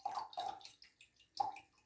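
Water sloshes and drips out of a shaving mug in a few quiet, separate pours and trickles, soft and close, with brief pauses between them.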